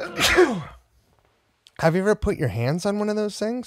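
A single loud, close sneeze bursts out at the start, then a short pause, then people talk in conversation.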